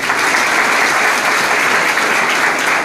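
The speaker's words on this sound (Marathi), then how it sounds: "आपण सर्वांसाठी जोरदार टाळ्या वाजवा." An audience at a lecture on cyber law and crime claps loudly and steadily, a dense continuous applause that stays even in level for the whole stretch with no speech over it.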